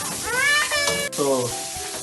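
Onions and cashews frying together in a home kitchen pan while making veg pulao, a steady close sizzle with stirring scrapes, overlaid by bright tonal squeaks that may be a voice or a cat.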